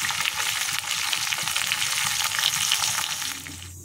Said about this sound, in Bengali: এবার পটলটা তেলে দিয়ে দিয়েছি, অনেকটাই তেল আছে, পটল ভেজে তেলটা তুলে নেব